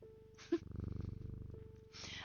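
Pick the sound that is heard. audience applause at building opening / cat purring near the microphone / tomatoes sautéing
cat purring near the microphone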